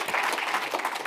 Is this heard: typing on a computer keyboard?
no